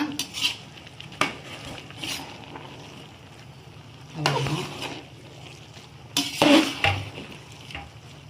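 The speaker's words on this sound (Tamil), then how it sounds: "இந்த மாதிரி லைட்டாக மட்டும் கிண்டி விடுங்க, ரொம்ப கிண்ட வேண்டாம்" Cooked basmati rice is lightly stirred in a chicken biryani pot, with a few separate scraping and clinking strokes of a utensil against the pot, spaced out between quieter pauses.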